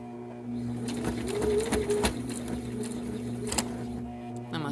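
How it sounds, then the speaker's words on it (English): A sewing machine runs steadily, stitching a grocery bag holder, its motor humming with a rapid needle chatter close by, briefly pausing and then resuming. "So I'm going to sew forward."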